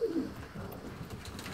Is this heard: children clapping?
no